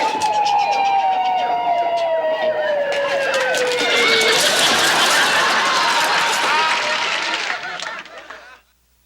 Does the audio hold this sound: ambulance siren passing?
yes